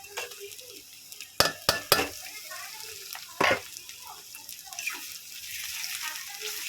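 Crushed ginger, garlic and chopped green chili go into a pan with onion and fry, giving a soft, hissing sizzle broken by a few sharp clinks and scrapes of a utensil.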